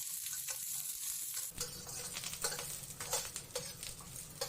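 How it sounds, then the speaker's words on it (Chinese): Chopped scallion, ginger and garlic hit hot oil in a wok and are stir-fried, raising a sudden loud sizzle after a brief quieter start. The sizzle carries on with stirring scrapes, close and with no talking. "加葱姜蒜，改成中小火炒香。"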